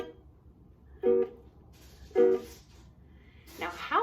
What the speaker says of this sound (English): I'm doing that by strumming and putting my hand on top of the strings to make the sound stop